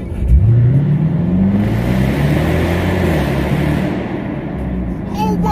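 A Mopar car's engine revs up and accelerates hard, its deep note climbing in pitch and then holding a loud, steady roar for several seconds.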